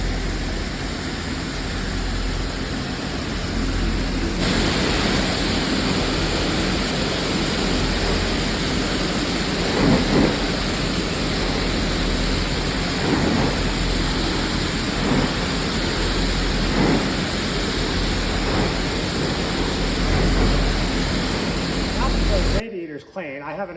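Water is sprayed through the fins of a Duramax truck radiator to flush out dark dirt, making a loud, steady hiss of rushing spray that holds constant for over twenty seconds before cutting off.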